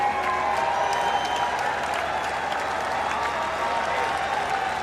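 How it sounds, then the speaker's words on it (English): A cricket crowd at a Test match between Australia and India claps steadily to mark a batsman's half century, the applause dense and sustained at moderate distance throughout. "gets a warm round of applause from the Australian dressing room and the crowd that's present here"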